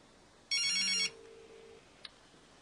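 A short electronic phone ringing tone: one bright, loud, buzzy burst followed by a lower steady beep tone, then a faint click in quiet surroundings.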